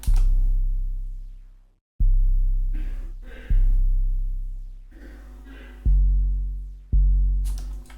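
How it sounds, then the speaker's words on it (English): An ambient-sounding 808 bass hits five deep, booming notes, each decaying slowly, with some changing pitch between hits, while soft airy textures drift faintly between them; no voices. "I'm using this really ambient sounding 808 that sounds like this."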